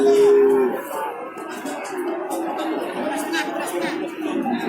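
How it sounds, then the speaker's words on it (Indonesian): A loud moo opens, followed by the low murmur of a crowd and livestock sounds at a cattle market in Tuban, East Java, among rows of young bulls, with people chattering throughout. "Ini masih di deretan sapi jantan"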